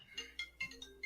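A phone left unmuted plays a short melodic ringtone, a quick run of bright electronic tones in regular bursts, clear and close in a quiet room.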